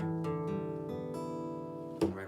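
Guitar open strings in standard tuning plucked one after another, each note ringing clearly and sustaining into the next, fairly quiet and close, ending with a sharper strum-like attack.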